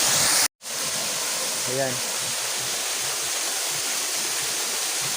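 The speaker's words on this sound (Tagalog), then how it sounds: "andito ako sa taas ng falls" A waterfall heard from the top of the falls gives a steady, loud broadband roar that fills the whole clip apart from a brief dropout near the start. A short spoken word cuts in briefly over it.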